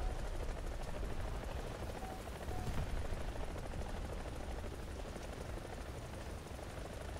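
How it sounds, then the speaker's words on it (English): A helicopter flies steadily overhead, its rotor and engine giving a continuous, fairly loud broadband drone that holds even across the whole stretch with no voices. "We are Russian chopper."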